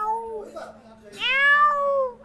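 A person imitates an angry cat with a drawn-out, rising and falling meow-like wail, close and clear, after a short earlier whine.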